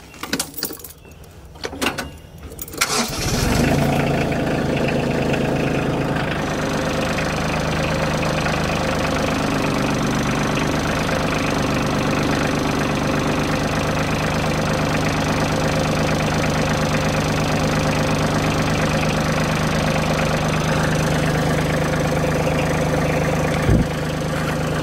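A Kioti CK compact tractor idles in neutral with the parking brake set, a loud steady diesel rumble that starts after a few seconds of quieter handling noise and runs unbroken to the end.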